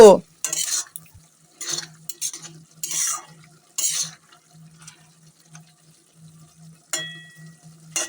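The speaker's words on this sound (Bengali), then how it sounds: "এরপর মাশরুমটাকে আবার মশলার সাথে কষিয়ে নেব" Mushrooms being stir-fried with spices in a pan, heard as intermittent scraping and stirring strokes with short clinks of a utensil against the pan, separated by quiet gaps, with a faint low hum underneath.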